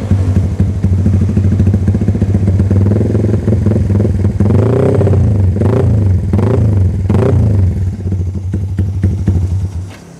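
A Yamaha MX King 200cc motorcycle with a Pekajaman exhaust idles close by, a loud, deep, steady pulsing rumble with a few brief throttle blips in the middle before cutting off at the end.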